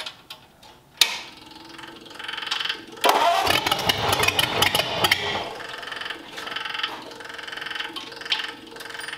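A 1937 Ford flathead engine with major issues cranks and catches, then runs and idles roughly with uneven surges and a ticking rhythm, close by and loud.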